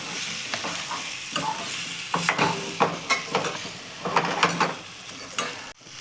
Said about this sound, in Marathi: नंतर मसाल्यामध्ये वांगे बटाट्याच्या फोडी टाकू. त्यामध्ये फ्राय करून घ्यायच्या.